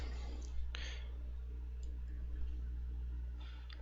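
A computer mouse gives a few faint, sparse clicks over a steady low hum of background noise. No one speaks.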